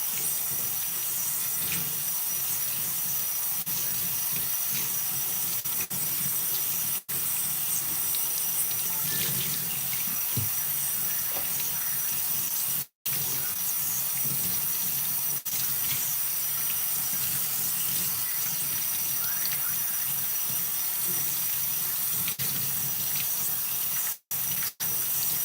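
Running water pours steadily while shampoo is rinsed out of hair, a continuous close, loud splashing rush with a few brief dropouts and no talking.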